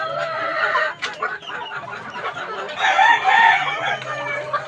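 Bulik green-legged fighting rooster crowing nearby in a long, strained call, with softer clucks and other farm sounds around it and a voice speaking briefly in the background.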